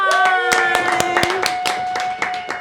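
A crowd claps loudly with sharp, irregular bursts of applause for a contest winner over a sustained musical tone and some voices.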